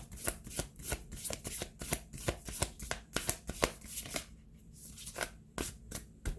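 Tarot-style Healing Mantra Deck cards are shuffled by hand in a rapid, steady run of crisp riffling flutters and soft slaps, close and clear with no talking.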